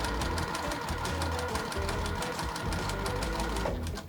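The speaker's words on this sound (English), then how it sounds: "I'm gonna take it right over to the sewing machine, and I'm gonna sew a little snowballed corner on here" A sewing machine runs steadily, stitching a snowballed corner onto a quilt block with a continuous, close, fast mechanical hum and rapid needle clatter that slows right at the end.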